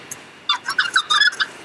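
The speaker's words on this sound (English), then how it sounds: "And I've got this noise, seagull noise," A seagull sound effect: a short, faint run of high bird calls, several quick cries in a row over near silence.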